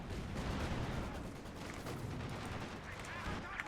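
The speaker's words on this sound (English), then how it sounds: "Machine guns are trying to suppress that force." Sustained machine gun fire in Company of Heroes 2, a dense stream of rapid shots and booming impacts rattling on continuously across a World War II battlefield.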